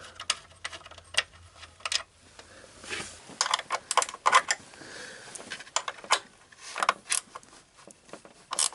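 Ratcheting clicks and metallic ticks from a wrench removing the 13mm intake manifold bolts on a 2000 Chrysler 300M, close and irregular, in short bursts with brief pauses between turns.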